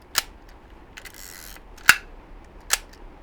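Three sharp, snappy shutter releases from a Zorky 4 35mm rangefinder camera, spaced about a second apart and close by, with a brief rustle in between; rain softly in the background.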